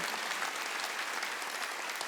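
A church congregation at a Wednesday worship service claps together in steady, dense applause that fills the room, loud and continuous for a couple of seconds without speech.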